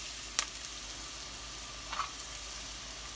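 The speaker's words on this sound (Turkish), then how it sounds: "Önce soğanımızı güzelce bir kavuralım" Chopped onions frying in hot oil in a pan, a quiet, steady sizzle close by with a couple of brief sharper pops and crackles.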